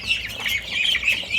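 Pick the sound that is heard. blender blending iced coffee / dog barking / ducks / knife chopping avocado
ducks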